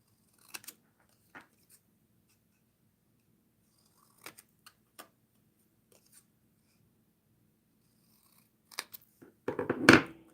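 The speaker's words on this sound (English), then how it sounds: "I'm going to cut out this butterfly here." Scissors snip around a paper butterfly cut-out in a few sparse, quiet clicks spread apart, closing with a louder cluster of rustling cuts at the end in a hushed room.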